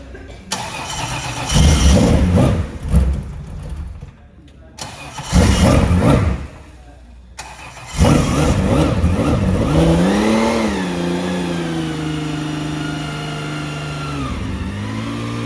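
A 2-litre Porsche 911 race car at Silverstone cranks and fires up, with loud bursts of engine noise separated by short gaps, then settles into a steady idle that rises in a smooth rev and drops back.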